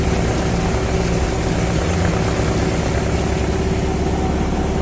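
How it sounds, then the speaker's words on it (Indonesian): A ferry's engine on a calm lake drones loud, steady and low throughout, with a constant rumble and hum and no other sounds standing out. "Jadi kita beradu dengan suara mesin."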